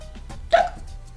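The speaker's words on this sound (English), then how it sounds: "this next condition must be one of the most annoying and interruptive conditions that some people get from time to time, and that is the hiccups." A single short hiccup, a sharp close vocal catch with a brief tonal squeak, heard alone against a quiet background.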